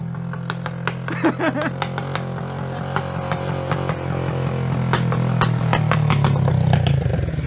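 Motorcycle engine revving hard with sharp exhaust pops and crackles, a steady mid-pitched drone under repeated loud bangs that grow more intense toward the end, recorded close with the exhaust removed.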